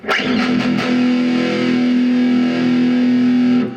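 A heavily distorted electric guitar chord through a Fender Vibro Champ XD amp on a Mesa Boogie Dual Rectifier-style setting rings out loud and sustained for several seconds, thick and saturated with high gain, then cuts off.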